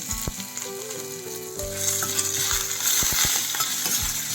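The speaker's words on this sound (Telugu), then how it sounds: "ఈ ఎండుమిర్చి ఎర్రగా వేయగాలి తర్వాత కొంచెం ఒక రెప్ప కరివేపాకు కొంచెం కొత్తిమీర" Dried red chillies and curry leaves fry in hot oil for a dosakaya (cucumber) chutney, a steady loud sizzle with a few sharp spatula scrapes and stirring knocks, no voices.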